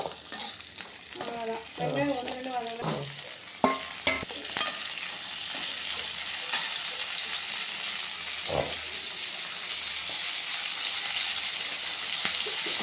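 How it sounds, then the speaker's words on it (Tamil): Chopped onion and garlic sauté in oil for a Tamil curry with a loud, continuous frying hiss. A few spatula scrapes and stirs come early on, then the sizzle carries on steadily up close, with no speech. "நல்லா எண்ணெயில் வதக்கலாம்."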